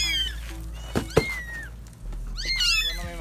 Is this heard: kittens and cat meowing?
yes